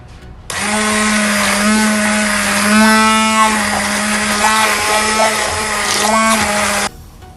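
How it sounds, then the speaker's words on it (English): A hand blender purées roasted pumpkin and garlic soup, a loud, steady motor whine running about six seconds with slight pitch wobbles as it churns, starting and stopping abruptly, close up. "Now I am going to blend it with the hand blender."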